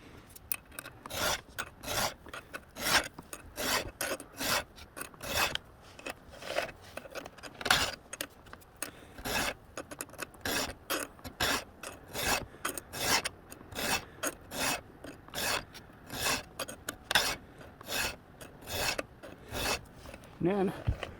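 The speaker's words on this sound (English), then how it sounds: "you're all done the teeth on the one side, you flip your file around" A hand file rasps across chainsaw teeth outdoors, steady repeated scraping strokes in an even rhythm, close and fairly loud.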